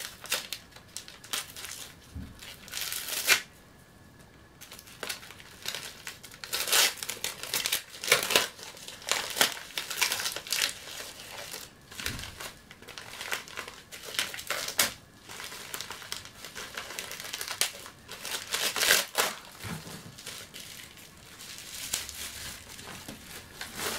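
Wrapping paper around a manga gift crinkles and rustles in repeated bursts, with sharper tearing-like rips scattered through a steady stretch of close handling and no talking.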